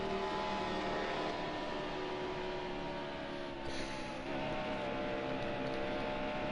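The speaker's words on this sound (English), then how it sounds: "listen to the car and you can hear him when I let off and when I let on to it" A NASCAR race car engine in NASCAR Heat Evolution drones loudly and continuously at high revs, with a brief dip around the middle as the throttle eases before it picks back up.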